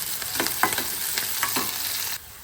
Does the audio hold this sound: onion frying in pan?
yes